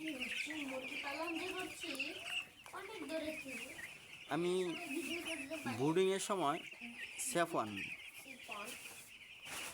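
Chickens on a small poultry farm, clucking and squawking repeatedly and close by, with someone talking over the flock.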